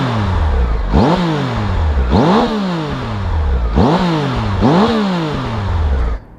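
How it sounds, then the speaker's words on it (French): Triumph Tiger 1200 XCa motorcycle engine revved hard four times in a steady rhythm, each blip climbing sharply then dropping back to a loud, close idle, with no talking. "Je vais vous faire écouter le bruit du moteur."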